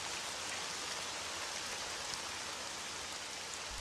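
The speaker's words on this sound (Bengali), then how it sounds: "আর এরই ভেতরে বৃষ্টি শুরু হয়ে গেল।" Rain begins pouring in a Bengali cartoon story, a dense, even hiss of falling drops that stays constant and fairly soft throughout with no voices.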